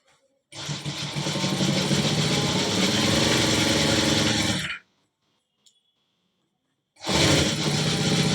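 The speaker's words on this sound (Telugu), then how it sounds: "ఇప్పుడు మనము ఈ హాఫ్ నింటి స్టార్ట్ చేయాలి మిషన్" A sewing machine stitches a full-sleeve shirt collar in a loud, fast mechanical run of about four seconds, then falls silent for a couple of seconds before starting again.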